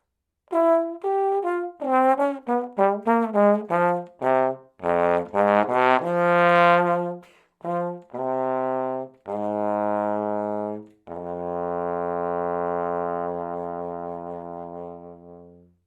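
A trombone plays a rhythmic phrase of short punchy notes in varied registers, ending on a long, low sustained tone.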